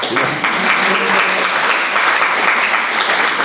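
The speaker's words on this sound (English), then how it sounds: "When I say that, people clap." An audience claps at an artist talk, filling the room with dense, steady applause that holds at a loud, even level for several seconds without any talk over it.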